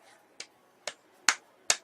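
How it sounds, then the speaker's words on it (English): Four sharp, separate hand claps, spaced about half a second apart, close by over a quiet background. "I'm clapping my hands"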